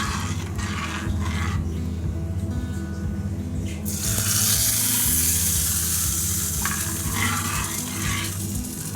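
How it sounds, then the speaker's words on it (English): Tempering of spices stirred by spoon into a tomato and curd curry in a pan: a steady sizzle with soft scraping, swelling into a brighter, louder hiss partway through. "I am adding that tempering to the curry. Okay, and we will mix it"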